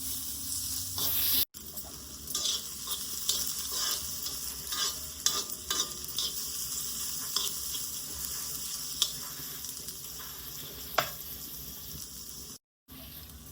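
Onions sautéed in a pan until just soft, a continuous hissing sizzle with intermittent spatula scrapes and taps, close, with brief dropouts near the start and end.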